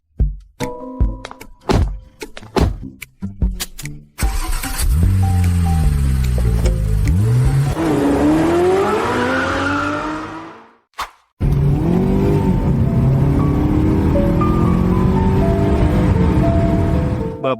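A car in a drama scene: door thunks and clicks, then a loud engine starting and revving with rising pitch as it pulls away, a brief cut, then steady close driving noise continuing.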